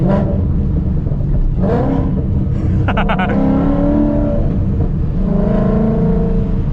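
A Stage 3 tuned Roush Mustang accelerates hard, its loud engine note climbing steadily in pitch through the gears and filling the whole stretch on its own.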